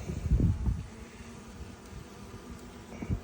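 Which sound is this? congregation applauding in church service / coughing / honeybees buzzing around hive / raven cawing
honeybees buzzing around hive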